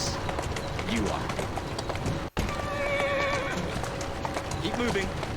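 A horse in the Assassin's Creed Syndicate video game, with rhythmic clip-clop hoofbeats and a brief whinny over city background ambience and birds, while a voice talks alongside.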